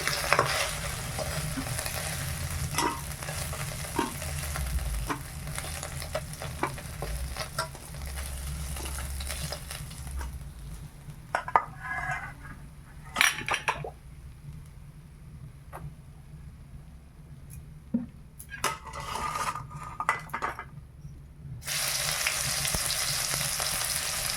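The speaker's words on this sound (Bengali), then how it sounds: "মাছগুলো ভাজা হয়ে গেছে তুলে নে" Small pond fish frying in oil in a pan, a steady crackling sizzle with occasional spatter pops and stir sounds, dropping to quieter stretches midway, close and without voices.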